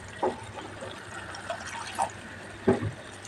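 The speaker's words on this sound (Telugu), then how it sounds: "ఇంకొంచెం వాటర్ వేస్తున్నాను." Water is poured into a simmering amaranth and tamarind curry in a kitchen pot, giving a few soft splashes and gurgles over a low, steady background.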